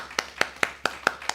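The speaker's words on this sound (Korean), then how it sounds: "한번 박수로 우리 감사를 드릴까요?" A church congregation gives a short round of thanks for the worship team, heard as about six sharp, evenly spaced claps, fairly faint and alone.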